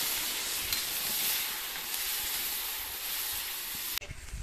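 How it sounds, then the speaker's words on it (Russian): Pilaf cooks in a lidded cauldron on a kazan-mangal grill, giving a constant hissing, steamy simmer that holds steady and then shifts abruptly near the end. "И все, прикрываем крышкой и тушим."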